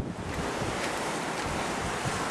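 Near the Colca hot springs, a river flows past in a constant loud broadband rush of water, with some wind buffeting the microphone and no voices.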